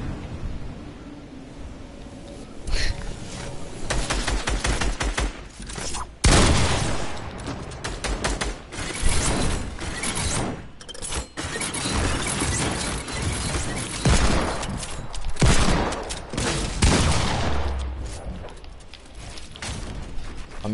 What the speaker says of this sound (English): I'm using a heavy shotgun at the moment.